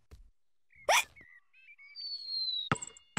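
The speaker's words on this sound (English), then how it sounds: "George's hiccups are spoiling the game." Cartoon pig George hiccups in a short cartoon scene, with a few sharp squeaky yelps and a whistling tone in between, fairly close and clear with no talking.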